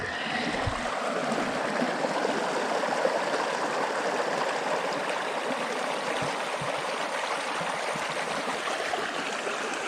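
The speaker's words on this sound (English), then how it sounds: "Collecting water time." A snowy mountain stream flows steadily nearby, a continuous bright rushing and gurgling of water with no voices, heard during a winter fat bike trip.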